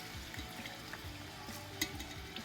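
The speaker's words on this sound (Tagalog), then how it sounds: "Igisa na natin yung patis. Igisa na rin natin siya." Fish sauce (patis) sautés in a pan for a Filipino goto rice porridge, giving a steady soft sizzle with light crackles and a brief sharper clink near the end.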